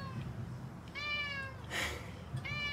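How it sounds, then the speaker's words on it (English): Near, fairly quiet meows from a cat, three short calls spaced across a few seconds over faint room noise, with a brief rustle between them. "Hi, kitty."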